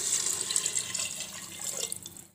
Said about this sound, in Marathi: आपण पाणी टाकू